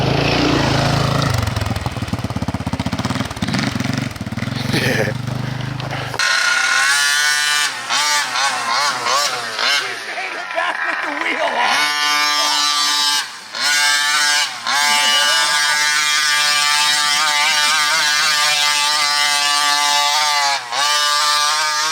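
Nitro engine of a Primal RC Raminator monster truck with a loud pipe, blaring and revving hard, rising and falling in pitch with sustained buzzing, very loud and close throughout.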